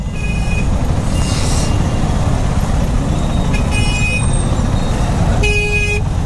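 Vehicle horns honking amid steady road traffic, a few short toots rising briefly over a loud continuous rumble of engines and road noise.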